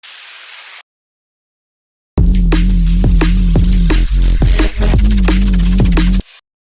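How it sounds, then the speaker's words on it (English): A burst of plain white noise from an Ableton effects sample hisses evenly for under a second, then stops. After a short silence, a loud drum and bass loop with heavy bass and punchy drums plays. "regular white noise"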